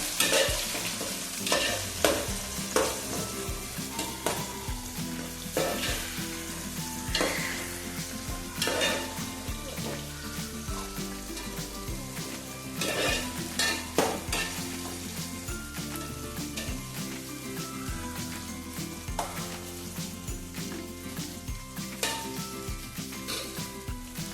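Soft tomatoes frying in oil for Mangalore-style chicken pulimunchi, a steady close sizzle broken by repeated spoon stirring and scraping against the pan, with no voices.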